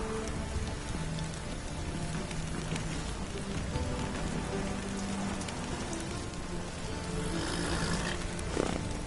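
Steady rain falls in The Witcher: Wild Hunt, a dense, even hiss of drops on the ground that continues unbroken throughout, with no talk over it.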